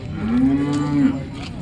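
A single long, low cow moo at a cattle market, loud and near, with faint background farm noise.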